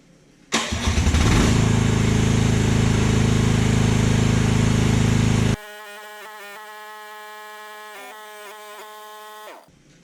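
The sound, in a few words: Chinese mini excavator running, hydraulic rams retracting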